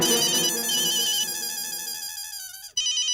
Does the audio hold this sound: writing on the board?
no